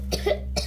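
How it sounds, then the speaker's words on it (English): A young child coughs twice in a preschool classroom, two short rough bursts close by with a low steady hum underneath. "Stop coughing on me"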